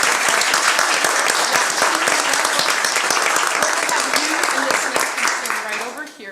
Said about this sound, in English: Can we please give Natalia a very big round of applause?